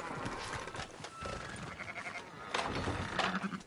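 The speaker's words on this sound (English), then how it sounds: "Fine sheep." Sheep in Red Dead Redemption 2 bleat in a farm setting, several overlapping cries at moderate distance with faint hoof clatter and background ambience.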